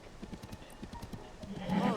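Horse hooves clip-clop in a steady trotting rhythm in an open-world fantasy game, fairly faint, while a voice speaks over them and a louder burst rises at the end.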